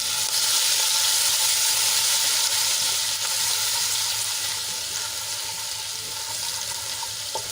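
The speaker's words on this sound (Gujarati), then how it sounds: "આદુ લસણ અને મરચાંની પેસ્ટ થોડીક સંતળાઈ જાય" Sizzling ginger, garlic and chili paste sautéing in oil after cumin and a pinch of asafoetida, a steady loud frying hiss with faint crackles running unbroken, gently fading near the end, no talking.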